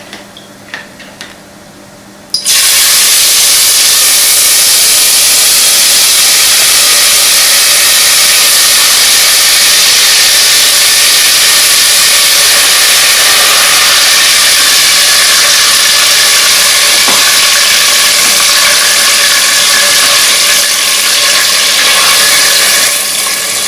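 Pepper mixture hitting steaming-hot oil for efo riro, bursting into a loud, dense, continuous sizzle that holds steady for over twenty seconds after a quiet start.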